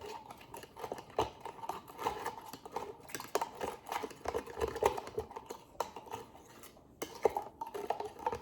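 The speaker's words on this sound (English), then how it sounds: "And stir it all up. Try to crush that eggshell up." Spoon stirring homemade dog food in a pot while crushing eggshell, giving irregular scraping clinks and taps, fairly quiet and close, with no talk.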